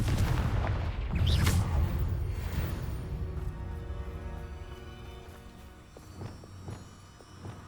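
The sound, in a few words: Confringo blasting spell from video game Hogwarts Legacy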